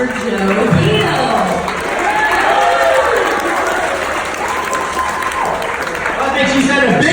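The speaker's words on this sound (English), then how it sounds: "So we're going to give him a big round of applause for Joe Peel." Audience applause for Joe Peel at a daytime camp gathering, a broad sustained wash of clapping from a crowd that runs loud and steady for the whole stretch, with voices mixed into it.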